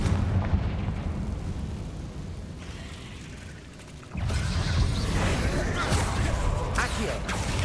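Spell blasts from Confringo and Bombarda in Hogwarts Legacy, rumbling booms and bursts layered over dense game noise, with a sharp rise into louder crackling explosions partway through and a spoken voice among them.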